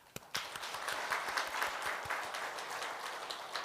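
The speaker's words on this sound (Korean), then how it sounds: "박수하겠습니다." A church congregation at a Christmas Sunday service claps together after a candle lighting, a few sharp early claps swelling into a moderate, steady round of applause in a reverberant room.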